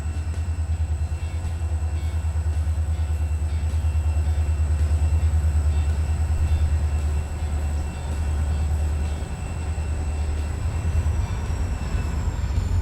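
A heavy 25-car freight train hauling about 1,600 tons up the steep red marble grade rumbles steadily with a deep droning engine, a constant loud low roar with faint high whine.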